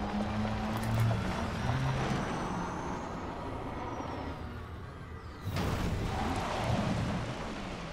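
Surface vehicle driving on an extreme-gravity world in Elite Dangerous: a steady, rumbling engine drone with a low hum and a louder surge near the end, with no talk.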